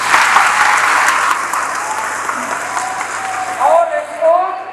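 An audience applauds at a tribal affairs ministry employment event at Kashinath Sahu College in Saraikela, with dense, steady clapping that fades slightly midway while faint voices and brief tonal sounds surface near the end.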